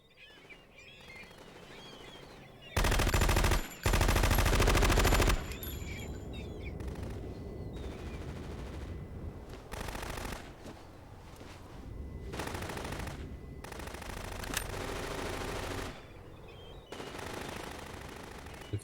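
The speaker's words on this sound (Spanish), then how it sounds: "ahí se escuchan los disparos" Video game gunfire in Metal Gear Solid 2 crackles in bursts of rapid automatic shots, with two loud, dense volleys near the start and more fire scattered after, under game ambience.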